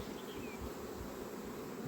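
Honeybees buzz steadily around hives near blooming acacia trees, a dense continuous hum of many insects heard alone at moderate distance.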